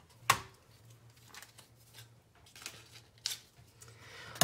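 Scissors or a blade snip a small piece off a cut-out design for a picture-transfer-to-wood craft, a few sharp close cuts and rustles spaced apart in a quiet room.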